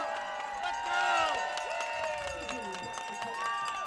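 Crowd noise at a Chapman versus Whitworth college football game after a blocked kick, a steady roar of cheering and whistles with rising shouts, broad and sustained throughout.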